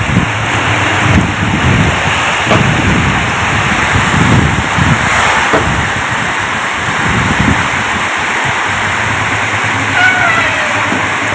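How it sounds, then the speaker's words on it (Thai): Dense, steady roar of heavy rain pouring down, broadband and unbroken, with some wind buffeting the microphone. "ฝนตกหนักมากเลยนะครับ"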